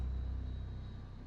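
Boeing 787-9 jet engines spooling down during shutdown in Microsoft Flight Simulator 2024, a steady low rumble with a faint whine, fading slightly as the engines wind down, no talk.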